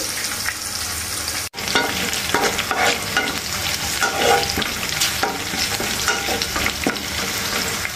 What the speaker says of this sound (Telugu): లో ఫ్లేమ్ పైన పోపు అనేది మంచిగా రెడీ చేసుకోవాలి.